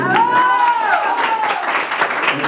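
An audience applauds a youth mariachi band at a quinceañera, steady clapping that carries on under a voice speaking over it.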